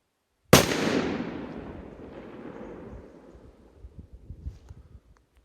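One loud NWP firecracker explosion bursts close by, its rumble trailing off over a few seconds, followed by scattered small crackles and pops.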